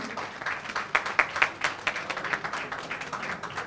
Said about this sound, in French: sous vos applaudissements, veuillez accueillir les tout petits du camp